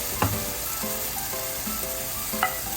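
Food frying in a pan with ground pepper, a steady loud sizzle with a few light stirring knocks, close and with no voices.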